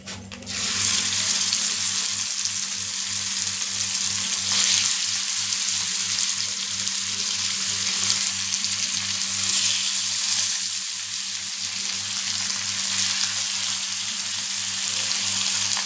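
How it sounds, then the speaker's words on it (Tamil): Fish frying in hot oil gives a loud, steady sizzle that runs continuously close by, with a low hum underneath and no talking. "இப்போ அடுத்த மீனையும் அதில் போட்டுடலாம்."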